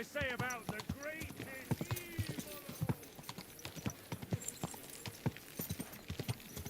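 Horse hooves clip-clop at a steady walking pace in the medieval game Kingdom Come Deliverance 2, moderately close, with a few short snorts and a voice speaking over the hoofbeats.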